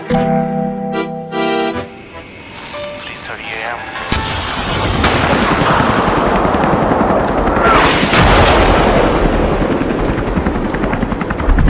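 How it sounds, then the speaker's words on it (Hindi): A staged air strike rumbles with a droning helicopter-like roar and heavy booming blasts, loud and sustained after a few opening electronic tones. "बम गिर रहा है हमारे ऊपर"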